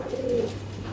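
A short, soft pigeon coo rises close by over a low steady hum, brief and muffled.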